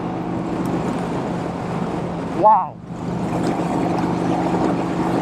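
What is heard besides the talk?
Vincent Rapide motorcycle engine while riding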